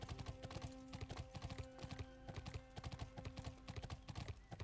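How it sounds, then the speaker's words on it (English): Horse hooves clip-clop steadily along a path in the video game Bless Online, a fast, even rhythm of close, crisp hoofbeats that continues throughout with no talk. "You're a horsey, right? You follow the path."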